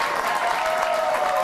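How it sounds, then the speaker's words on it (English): Audience applause at a televised comedy talk show, a dense steady clapping filling the whole stretch evenly with no voices standing out. "They are applauding for the mafia."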